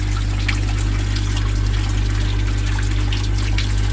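Water running steadily from a household water supply line, a constant trickling flow with a low steady hum beneath it, close and continuous with no talking.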